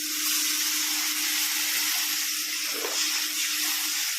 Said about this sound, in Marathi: हे पाणी टाकायचं वरून